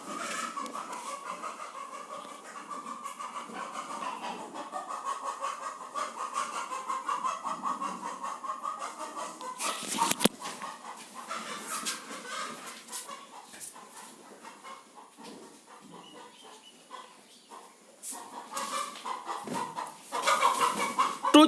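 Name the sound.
two chickens fighting, in a played video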